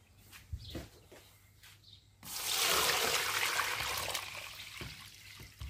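Cold horsetail tea steeped overnight being poured through a filter, a steady splashing trickle of liquid that starts abruptly and runs for several seconds before easing off, close and fairly loud.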